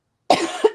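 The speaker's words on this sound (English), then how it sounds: "I'm gonna cough again." A single coughing fit from a person during fabric cutting for a Minky pet bed, two sharp close bursts a third of a second apart, no talking.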